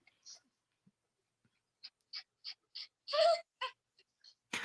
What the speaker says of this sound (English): Sounds like the chicken's ready to lay an egg again on her pillow.